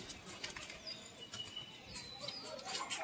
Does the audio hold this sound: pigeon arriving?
yes